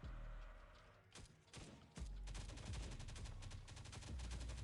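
Gunfire in the mobile survival game Last Day on Earth: Survival, a couple of separate shots followed by a rapid automatic burst of sharp cracks, loud and close over quiet game sounds.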